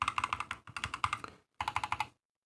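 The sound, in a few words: mechanical keyboard typing, Holy Boba switches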